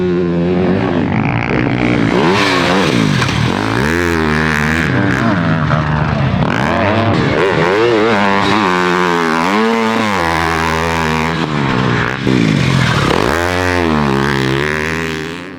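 TM MX 300 motocross bike engine revving hard through the gears, loud and close throughout, the pitch climbing and dropping with each shift and throttle change.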